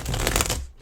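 A deck of tarot cards gets a quick riffle shuffle, a short close burst of soft rapid flutter lasting under a second and then fading out.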